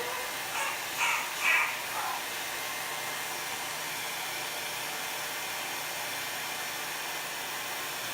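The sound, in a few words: heat tool blowing to heat set a tote bag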